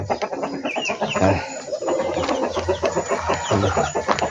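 Chickens and newly hatched chicks cluck and peep close by in a steady, busy chorus, with a brief call rising above the flock and no talking.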